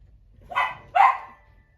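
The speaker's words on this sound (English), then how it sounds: "My dog Peaches in the background." A dog named Peaches barks twice in quick succession, two short, sharp, fairly close yaps with nothing else around them.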